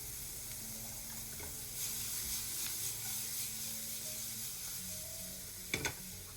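Thin-sliced onions frying in hot oil in a pan, a faint continuous sizzle with low background hum and a couple of quick knocks near the end, no voices.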